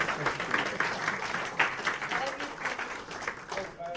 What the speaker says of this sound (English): Can you give Billy a round of applause, by the way?